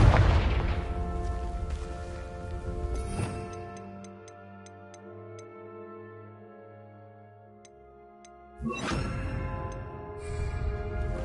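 A Confringo blasting spell from a Harry Potter video game erupts in a heavy booming explosion with a rumbling tail, then a second blast hits later, both over quiet ticking, tonal game music.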